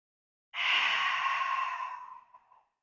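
A single long, slow exhale during a yoga breathing exercise, a soft airy whoosh that starts abruptly and tapers off over about two seconds, alone in silence.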